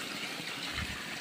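Mountain spring water flows in a soft, steady rush, a brief and fairly faint stream of running water with no other sounds standing out.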